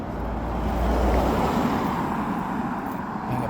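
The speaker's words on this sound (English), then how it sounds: "I apologise for the car noise." Cars passing along the Ballycairn road, a broad continuous rush of traffic noise that swells and fades slightly, fairly loud and close, with no voices.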